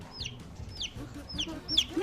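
Small chicks peep in quick, high, rising chirps, about four bursts over a couple of seconds, close by, with faint rustling underneath.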